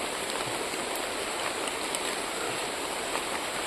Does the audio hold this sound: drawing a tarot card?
no